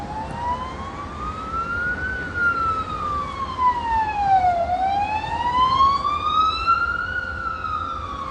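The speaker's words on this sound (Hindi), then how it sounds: "उनकी गाड़ी का सायरन काफी तेज बज रहा था।" A police car siren wails in a long rising and falling sweep, loud and continuous over a low rumble of road noise.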